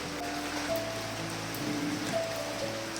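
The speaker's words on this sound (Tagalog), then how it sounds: "napakalakas talaga ng ulan tol." Heavy rain falling steadily as a dense, even hiss that holds at the same level throughout, with no voices.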